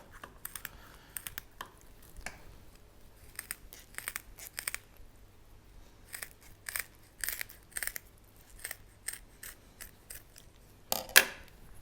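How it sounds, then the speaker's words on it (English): Repeated crisp snips of scissors cutting through a Dover sole, irregular clicks spread across the clip, close and fairly quiet, with no talking. "with our scissors, we're going to start at the tail end"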